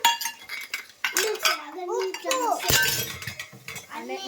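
A spoon stirs sambar powder and coriander powder into dal in a home kitchen, giving light metallic clinks and scrapes against the pot over about four seconds, with voices talking throughout.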